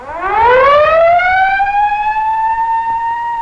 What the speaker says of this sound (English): Siren switches are thrown.